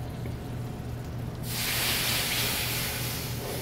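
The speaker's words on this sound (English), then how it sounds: "Now I'm going to deglaze with the rum." Hot pan bursting into a loud, steady sizzling hiss as rum hits it to deglaze bananas Foster, the broad rush starting abruptly and holding over a low kitchen hum.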